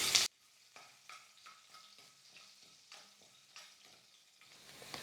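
Crushed skin-on garlic cloves hitting a pan of roasting urad dal and chana dal, with a brief loud sizzle burst at the start, then soft frying crackle and repeated stirring scrapes, close and quiet.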